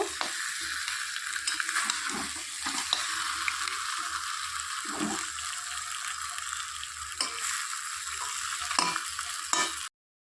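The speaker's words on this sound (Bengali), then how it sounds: "এবার মাছের মাথাগুলো দিয়ে দেব। দিয়ে আবার একটু নেড়ে চেড়ে দেব।" Catla fish heads stir-fry in a pan with a continuous, close sizzle broken by repeated scraping stirs, steady and fairly loud throughout with no talk.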